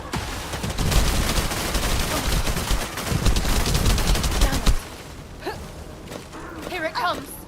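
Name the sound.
gunfire from weapons in the video game The First Descendant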